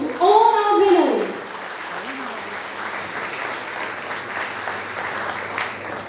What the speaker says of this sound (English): a huge round of applause to all our winners